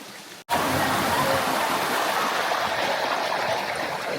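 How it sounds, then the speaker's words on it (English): Rainwater pouring off as a small waterfall in a traditional Balinese village on a rainy day, a loud continuous rushing splash that starts abruptly and holds steady, close and unbroken. "Look, there is a waterfall."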